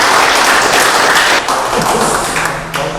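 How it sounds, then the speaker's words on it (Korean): Loud, close applause from an audience at a forum and gathering of senior members, dense and sustained before easing slightly toward the end, with no voices over it. "뜨거운 박수 한번 부탁드리겠습니다."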